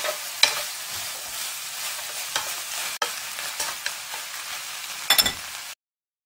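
Doenjang-marinated pork neck fries in a covered frying pan at home, a steady close sizzle with occasional clicks and scrapes, ending abruptly in silence.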